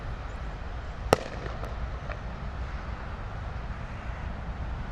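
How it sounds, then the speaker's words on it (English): A single sharp crack of a bird-scaring flare fired by ground crew at Heathrow Airport, with a couple of fainter pops after it, set against a steady background rumble of airport noise. "maybe trying to scare away some of the wildlife. Oh yeah, I can see them blasting off flares."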